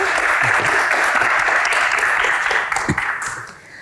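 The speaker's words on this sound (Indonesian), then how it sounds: "Tepuk tangan sekali lagi." Sustained applause from an audience, loud and dense, tapering off over the final second.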